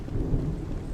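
Rain and thunder in a video game, a steady low rumble with a constant hiss of rainfall, moderately quiet and without voices.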